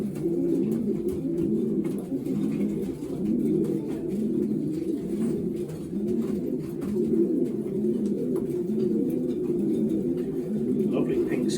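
Racing pigeons coo steadily in a loft as they are basketed for races, a low rolling chorus of overlapping coos throughout, close and continuous.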